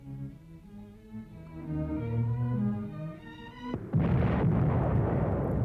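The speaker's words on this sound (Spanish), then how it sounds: "La hora H ha llegado y la explosión se produce." A hydrogen bomb test detonates in an old archival newsreel: a sustained musical tone gives way to a sudden loud, rumbling blast that keeps roaring with broadband noise.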